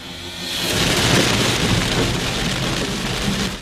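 Heavy rain and wind roar in a dense, hissing wash that swells in after a brief quiet start, with gusty rumbling underneath, in Legazpi City, Albay.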